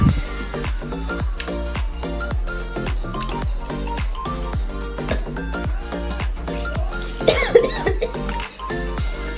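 A single cough cuts in near the end over a loud, steady rhythmic pulsing background.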